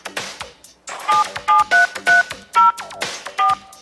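Telephone keypad dialing tones entering a voicemail password: about seven short, clear beeps pressed at an uneven pace, loud and close over faint background noise.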